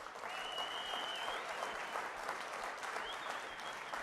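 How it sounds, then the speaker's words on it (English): A crowd at a university celebration of joining the American Athletic Conference applauds the athletic department; steady, moderately distant clapping continues throughout, with a brief whistle or cheer over it. "I do want you to give a big round of applause to the entire athletic department"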